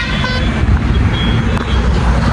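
Road traffic rumbling steadily past on a cold morning, loud and continuous low engine noise from cars and trucks, with a faint horn-like tone early on and no clear talk.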